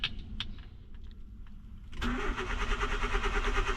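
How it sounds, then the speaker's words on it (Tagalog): A Nissan Sentra GSX with a lit check engine light cranks for a long stretch of muffled whirring, then catches abruptly and settles into a steady, fairly loud idle. "ang haba ng cranking"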